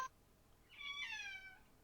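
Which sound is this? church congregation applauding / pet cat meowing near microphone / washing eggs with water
pet cat meowing near microphone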